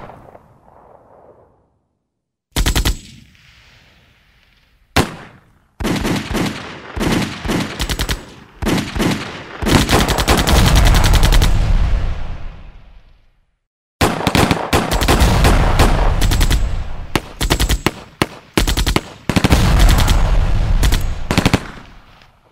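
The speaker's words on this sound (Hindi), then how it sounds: "आणि मध्यरात्री फायरिंग सुरू झालं." Gunfire in a dramatized Indian Army surgical strike scene: after a short quiet start, loud sustained bursts of automatic fire with heavy booming blasts rattle on and off for about twenty seconds, broken by one brief silence.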